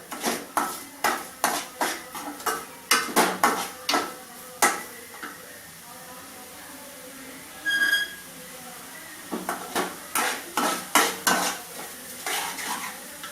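A spoon stirring and scraping in a pan while sautéing for a Tamil tamarind curry with black nightshade berries, heard as rhythmic metallic strokes at a steady pace with a brief pause midway, close and loud, no speech.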